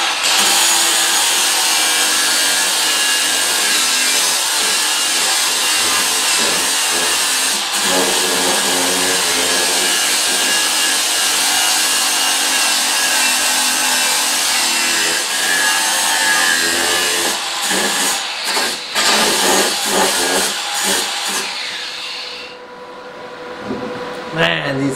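A battery angle grinder cuts through 1/2 to 5/8 inch square steel stock with a loud, continuous high whine and grinding hiss that holds steady for about twenty seconds before tapering and stopping.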